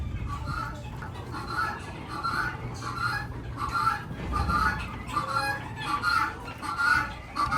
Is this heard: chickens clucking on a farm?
yes